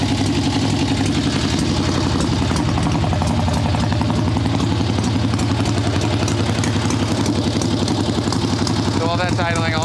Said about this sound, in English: So while that's idling, I'll let that warm up for a minute or two.